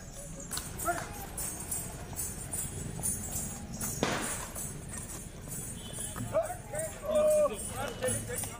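Horse hooves clip-clop from a mare pulling a buggy used for weddings and rallies in Dhamtari, light uneven steps heard under steady talking with street noise around.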